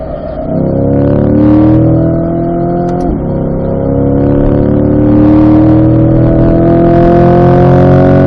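A Chevrolet C8 Corvette accelerates hard on a race track at a performance driving school, its engine note loud and close, rising through the revs, dipping briefly around a shift, then climbing again with no talk over it.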